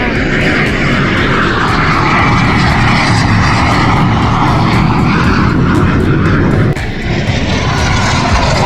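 A fixed-wing airplane makes a low fake landing pass at the Arctic Lightning Air Show at Eielson AFB, Alaska, its engine roaring loud and steady overhead for several seconds before easing slightly as it moves off.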